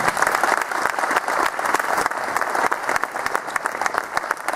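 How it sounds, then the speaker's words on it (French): A room full of people at a 2012 François Hollande event in Creil claps continuously, a dense, steady round of applause with no voices standing out. "beaucoup d'applaudissements"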